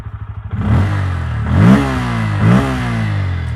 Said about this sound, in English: And now it's time to hear the N160's exhaust note.